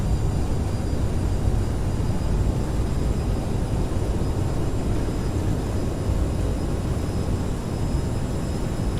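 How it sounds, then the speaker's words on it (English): Thrust reversers roar on an Aerosoft CRJ regional jet during landing in Microsoft Flight Simulator, a dense, constant engine rush with a high whine on top, loud and unbroken. "Maintain center line. Reversers deployed."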